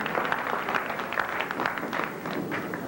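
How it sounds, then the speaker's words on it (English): An audience claps steadily and closely at the end of a program about the origin and impact of white racism. The applause is a dense, even patter that holds at one level with no speech. "let's give this program a, a great big round of applause"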